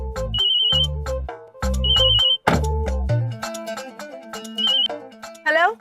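A phone ringtone plays while a call is placed, a loud melodic tune in repeating bursts with high beeping tones, paused briefly between phrases and ending in a rising trill.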